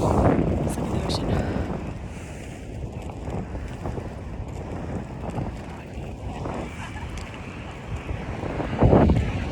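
Ocean waves wash in a steady, loud rush under heavy gusting wind that buffets the microphone, with a louder surge of surf near the end.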